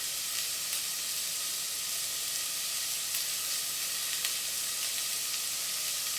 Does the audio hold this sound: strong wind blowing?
no